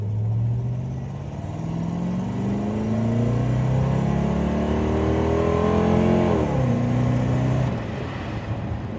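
A Gordon Keeble sports car pulls away down the road, its engine loud and close, climbing in pitch through a gear change and settling into a strong, sustained drone.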